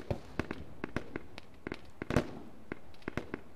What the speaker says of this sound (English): those are normal mortar tubes